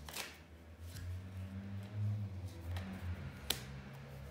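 Tarot cards shuffled by hand ahead of drawing a third card, a soft continuous riffling and sliding with a low hum underneath and a sharp tap near the end.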